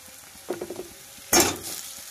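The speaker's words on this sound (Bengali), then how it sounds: "নেড়ে ভেজে নেব। ভাজাটা দেখো ব্রাউন ব্রাউন হয়ে গেছে মশলাটা।" Browned spice masala frying in a pan while being stirred, with a few quick scraping strokes followed by a sharp, loud burst of sizzle that trails off.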